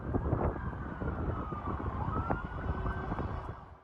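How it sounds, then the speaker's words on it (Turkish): An air raid siren in Israel wails, rising and falling steadily over a windy, rumbling background, with no voices heard. "Tel Aviv ve Nahariya'da siren sesleri yükseldi."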